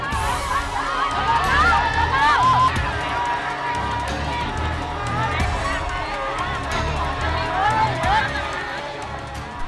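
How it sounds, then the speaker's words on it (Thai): A crowd shouts and cheers in a continuous, lively babble with excited voices rising above a busy background, steady and close throughout. "เขาเหล่านี้ต่างโห่ร้องดีใจเพราะเหตุใด"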